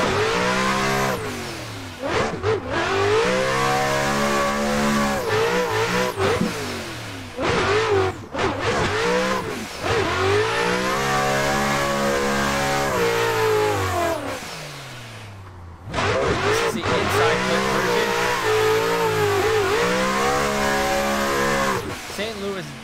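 A Nissan S15 drift car with a freshly tuned build and an already damaged motor revs hard on a track, its engine pitch climbing and dropping in long sweeps with brief lifts between, loud and close, with a voice talking at times.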